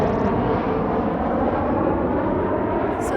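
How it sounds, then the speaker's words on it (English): A plane passes overhead with a loud, steady roar of engine and exhaust that fills the whole few seconds, heard outdoors near a home. "Oh, and there's the plane"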